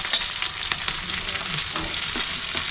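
Capsicum stir-fried in a pan for chilli paneer gives a steady, loud sizzle with constant crackle and occasional stirring scrapes, close up and without speech.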